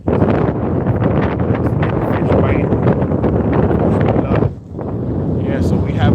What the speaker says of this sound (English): we have a west wind